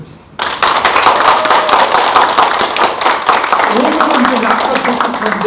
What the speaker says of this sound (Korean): 뜨거운 박수 한번 쳐줍시다.